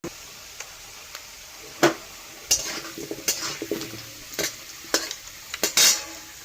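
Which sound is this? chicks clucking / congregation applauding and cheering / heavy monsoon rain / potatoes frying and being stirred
potatoes frying and being stirred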